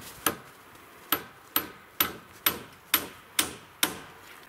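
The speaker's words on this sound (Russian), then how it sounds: "Сейчас забиваем гвозди." Nails are hammered into wooden boards while building a small cabin shelter: eight sharp, evenly spaced blows, each with a short ringing tail, close and clear with no talk.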